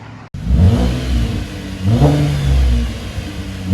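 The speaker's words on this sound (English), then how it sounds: "straight pipe, no mufflers, muffler delete" A 2012 Chevy Impala V6 with straight-pipe dual exhaust and muffler delete revs up close, roaring and falling back in a couple of surges, with no speech.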